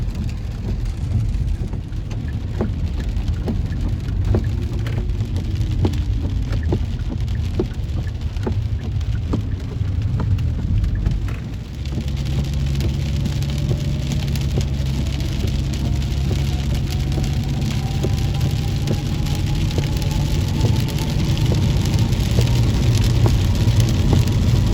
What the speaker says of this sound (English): Looks like it's been raining for about 2 days now in Texas.